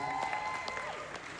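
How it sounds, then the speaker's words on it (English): Wedding sangeet guests applaud together in a steady wash of close clapping that lasts throughout, with faint musical tones ringing underneath. "can we give a big round of applause to Sandbox Studios?"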